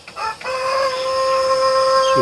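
A large chicken, kept apart after being pecked, gives a couple of short clucks and then a long, steady, tonal call held near and fairly loud.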